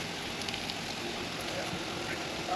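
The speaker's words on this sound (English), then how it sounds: "you're just gonna drop your meatballs in there" Meatballs sear in hot oil in a frying pan, a dense, steady crackling sizzle heard close and continuous throughout.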